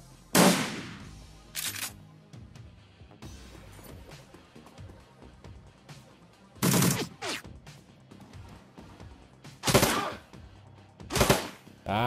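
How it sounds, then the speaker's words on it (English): Gun turrets firing in the video game Shadowrun Returns, several loud sharp bursts of gunfire spaced a few seconds apart over a softer rumbling game soundscape. "So the turrets are now working."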